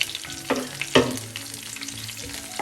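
Tamarind frying with wilting curry leaves in a pan for curry leaf chutney, a close continuous sizzle with a few spoon stirs and scrapes, one stronger scrape near the middle, no talk.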